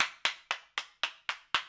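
Seven evenly spaced, crisp hand claps sound in a slow steady rhythm, each sharp and close, as an applause effect in the Steins;Gate 0 visual novel game.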